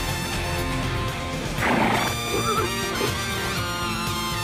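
A horse neighs in an anime scene, a short whinny rising over a dense bed of orchestral music that plays throughout, loud and close.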